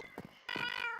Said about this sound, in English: so sorry the cats sound like that.